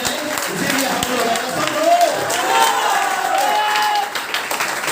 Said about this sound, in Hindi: तो सबसे पहला ताली तो आप लोगों के लिए होना चाहिए